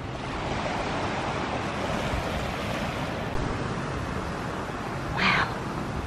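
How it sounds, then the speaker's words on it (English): Ocean waves washing in steadily at a Hawaii resort, with a continuous soft roar of surf, fairly distant, plus a brief faint high sound near the end. "try to take a nap listening to the waves coming in"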